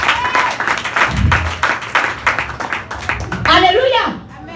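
A church congregation claps and cheers in applause, a dense steady wash of hands with voices calling out over it, swelling near the end.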